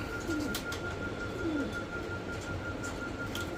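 Pigeons coo at a pigeon sale centre, two soft low coos standing out against a steady background hum and faint chatter of other birds.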